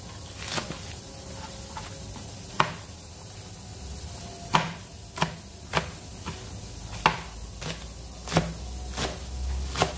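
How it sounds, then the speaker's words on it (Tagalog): A knife chops leafy green vegetables and spring onion on a cutting board in a home kitchen, giving sharp, irregular thuds spaced a second or so apart, close and clear over faint background hiss, with no talking. "Time to chop na mga karusas. Hiwa na natin."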